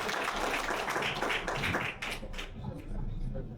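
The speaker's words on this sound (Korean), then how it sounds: "우리 포틀랜드 지회에서 오신 분들을 위해서 박수 한번 부탁드립니다" Audience applause for guests from the Portland chapter at a community council meeting in Seattle, a steady clatter of many hands that runs without a break for a few seconds and fades slightly near the end.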